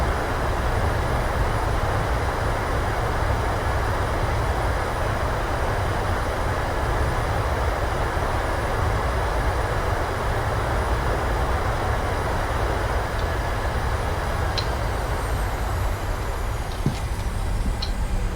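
A PMDG 737-800 in Microsoft Flight Simulator 2020 roars with reverse thrust after touchdown, a steady, loud, broadband jet rush that holds evenly throughout with no talking.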